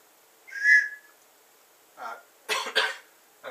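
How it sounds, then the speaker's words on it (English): A child's emergency whistle from a school emergency bag gives one short, clear high blast, followed by a few brief breathy sounds and a scuffle. "And a whistle."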